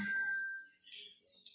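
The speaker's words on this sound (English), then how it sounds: "that's my alarm to sign in for work" A phone alarm set to signal signing in for work sounds as a brief electronic tone that fades, followed by a couple of quieter bright chirps, fairly faint and without talking over it.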